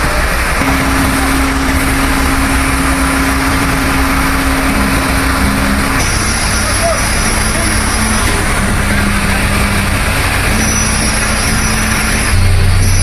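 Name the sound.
vehicle and machine engines running at Karatoya bridge construction site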